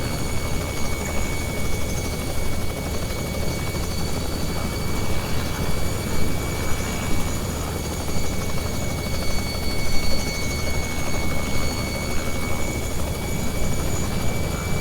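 Robinson R66 turbine helicopter in a flight simulator game, a steady, dense rotor and turbine roar with a high whine, continuous and unchanging throughout, no voices.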